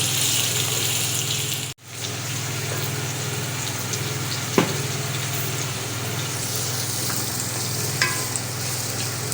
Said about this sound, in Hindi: फिर देखें ये प्याज मैं इसमें डालूँगी।